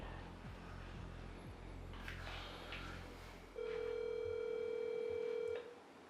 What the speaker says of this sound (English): How many times the phone ringing when you call?